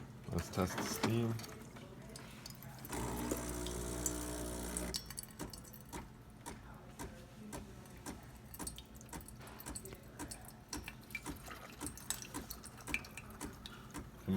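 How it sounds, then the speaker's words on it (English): Steam wand on a Gaggia Titanium espresso machine hissing in a strong, broadband burst for a couple of seconds, then giving way to softer sputtering and clicks. "So we have that nice strong steam."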